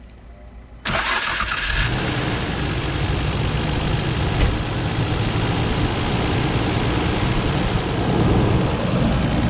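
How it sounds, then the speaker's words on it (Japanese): A high-mileage car with 180,000 km on it cranks over on its starter motor and catches, then settles into a steady, loud running engine close by, with a slight dragging quality after the starter spins. "まず32の方のセルモーターの音聞いてみたいと思います。"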